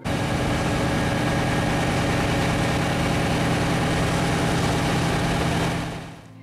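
Internal combustion engines at a diesel- and gas-fired thermoelectric power plant produce a dense, unbroken rumbling drone. The sound holds loud and steady, then fades at the end.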